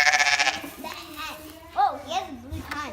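Young lambs bleating at a farm, several wavering cries close by, mixed with the voice of someone talking softly nearby.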